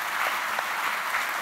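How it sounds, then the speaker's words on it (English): An audience at a London lecture event gives a round of applause, a dense, even wash of many clapping hands heard at moderate volume from a little distance, with no voices over it. "Give her a round of applause."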